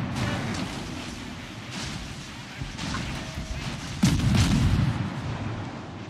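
Double-mount naval guns of the destroyer Harikaze firing in a naval warship video game, repeated dull booming shots under steady battle noise, with one louder blast near the end.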